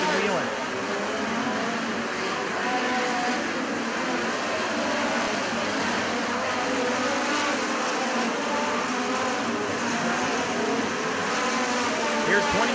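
USAC midget race cars lapping Jefferson County Speedway, a continuous blended engine roar at middle distance that rises and falls as the cars circle, under steady crowd and track noise.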